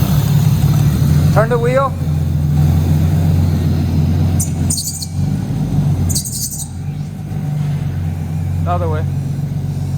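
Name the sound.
R34 Skyline engine with GT35R turbo running and revving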